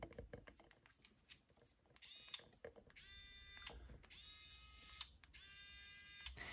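Xiaomi Mijia electric screwdriver, the 2020 model with magnetic tips, whirring in several short bursts of a few seconds each, a high buzzing motor whine separated by clicks and handling clatter.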